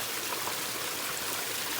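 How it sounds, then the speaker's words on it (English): Water runs steadily through a rock-built backyard waterfall and runnel, a close, continuous broadband rush with no pause or voices. "Waterfall's working."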